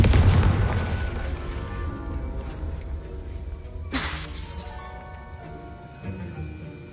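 A Confringo blasting spell in Hogwarts Legacy sets off a sudden booming explosion mid-clip, cutting through a dense layer of orchestral score and ambient game sound, then fading out.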